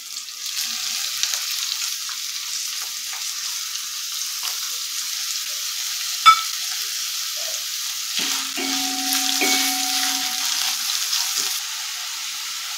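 Finely chopped onion frying with chillies in a pan for an aloo methi dish, a steady close sizzle throughout with a sharp clink around the middle and a few softer utensil knocks toward the end.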